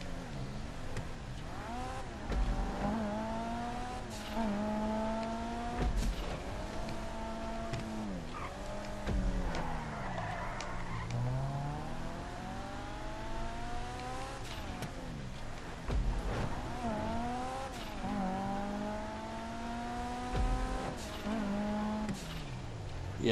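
Cars race a lap in the video game GTA 5, engines revving up and down through repeated gear changes, with occasional tire squeal, loud and close throughout.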